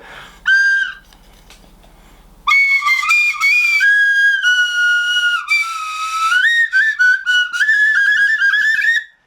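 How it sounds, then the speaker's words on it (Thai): A shrill toy whistle is blown up close, a short toot followed by a long warbling run of shifting, sliding pitches. "เอาว่ามันเป่าได้เล่นเป็นเสียงได้ก็โอเคแล้วนะครับ"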